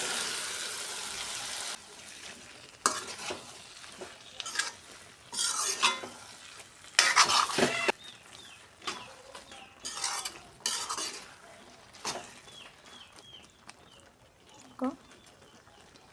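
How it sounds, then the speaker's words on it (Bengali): Chickpea and potato masala frying in oil while a spoon stirs it in the pan, soft sizzling under repeated scraping and clattering strokes, close by, with someone talking over it. "বুট আর আলু মশলাটাকে ভালো করে কষিয়ে নেব"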